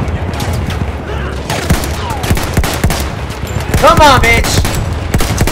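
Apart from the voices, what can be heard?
gunfire in video game Battlefield 1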